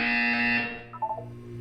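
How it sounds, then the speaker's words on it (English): Portal 2 buzzer from the game's wellness exercise, a loud steady electronic buzz held about half a second before cutting off, followed by a faint sweeping tone. "You will hear a buzzer. When you hear the buzzer, look down at the floor."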